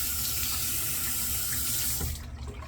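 Water runs steadily from a sink tap for a head re-wetting during a hot-towel head shave, a close, continuous splashing flow that stops abruptly near the end, with no talking.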